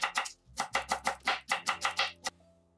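A knife chops quickly on a cutting board, slicing vegetables for borscht, a rapid run of about a dozen crisp, close knocks before stopping.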